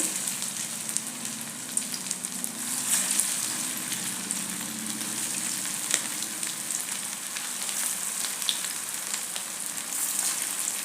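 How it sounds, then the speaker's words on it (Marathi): Leftover rice and vegetable cutlets frying in hot oil in a pan, a continuous dense sizzle with fine crackles that stays even and close throughout. "तेल व्यवस्थित गरम झालं आहे आता हे कटलेट फक्त याच्यात असं ठेवून द्यायचे"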